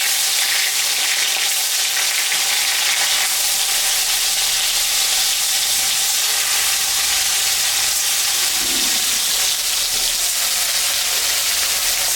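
Loud, steady sizzling of snakehead fish seasoned with salt and turmeric frying in hot mustard oil, a dense continuous crackle and hiss with no voices.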